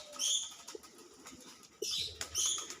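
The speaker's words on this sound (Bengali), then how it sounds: "এখানে একটা ফার্ম, এখানে সব জাতেরই কবুতর আছে," Pigeons at a pigeon farm flapping their wings: two short, faint bursts of fluttering wingbeats, one at the start and one near the end, with a quiet background between them.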